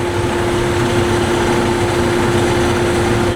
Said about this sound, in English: Idling in fourth gear, that's kind of impressive.